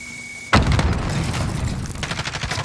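Grenade blasts in Call of Duty: Modern Warfare, a sudden loud detonation after a quiet moment, followed by a sustained rumbling roar and scattered further bursts of gunfire and impacts.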